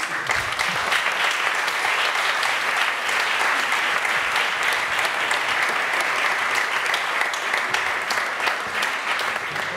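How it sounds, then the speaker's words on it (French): Applause from a conference audience honouring students, a dense, steady wash of clapping at full strength for about ten seconds, no voices breaking through. "ils vont vous applaudir et c'est bien mérité"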